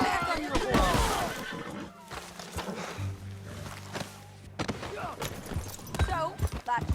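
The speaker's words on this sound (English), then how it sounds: "Get back on your horse." A horse whinnies loudly, hooves clop along, and another whinny follows near the end, over game music and effects in Red Dead Redemption 2.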